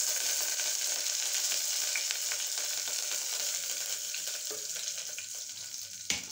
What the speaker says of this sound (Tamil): நம்ம கருவேப்பிலை, பட்டை, ஏலம், கிராம்பு, ரம்ப இலை எண்ணெயில் போடும்.